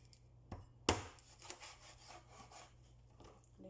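Knife cutting chicken and vegetables on a board, a few quiet, uneven scraping and thudding cuts, one sharper knock near the start, faint and close with no talking.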